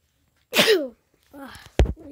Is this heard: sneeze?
yes